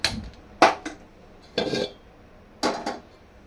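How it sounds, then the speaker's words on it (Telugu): A metal cooking pot set down on a kitchen stove, giving three or four sharp, close clanks spaced about a second apart, with quiet room tone between and no talking. "గిన్నె అయితే పెట్టేసాను."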